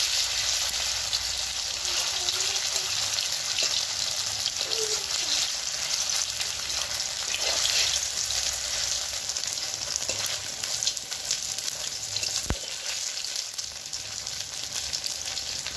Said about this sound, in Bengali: এই যে রোল করা ময়দাগুলো দিয়ে দেবো তেলের ভিতরে। আমি এখন ছেড়ে দেবো। আমি এটা দিয়ে উল্টিয়ে ভেজে নেব।